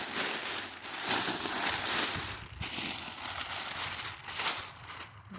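Plastic bag packaging wrapped around bare-root orchard tree roots with shredded paper gets handled and crinkled, a steady close rustle with no talk.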